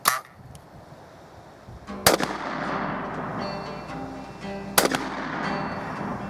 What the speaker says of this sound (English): I'm going to take 2 shots at the target down there